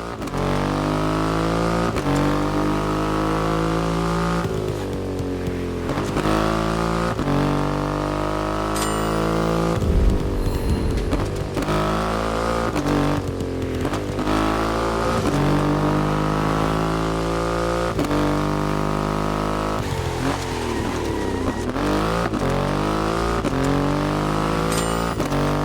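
A Triumph Rocket 3 motorcycle with a 2.5-liter engine revs hard in the racing game The Crew Motorfest, a loud continuous engine roar rising and falling in pitch through repeated accelerations and gear changes.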